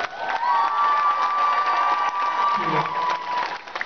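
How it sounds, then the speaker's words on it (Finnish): A live concert crowd cheers and applauds at Matkus in Kuopio, a dense sustained roar of voices and clapping with whistles and shouts rising over it. "Vielä suuret aplodit."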